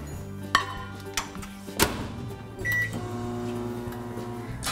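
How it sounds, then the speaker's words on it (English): A microwave oven hums steadily as it melts white chocolate, with a few soft clunks and thumps and a short electronic beep partway through. Nobody speaks. "So I just melt white chocolate at 30-second intervals, take it out of the microwave"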